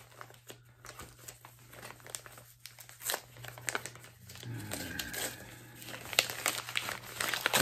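A paper envelope from a package unboxing is handled and torn open, with faint close crinkling and ripping that grows busier toward the end, while someone speaks briefly.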